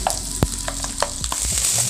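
Onions sizzle steadily in a hot pan, with a few sharp clicks and scrapes as they are stirred. No one speaks.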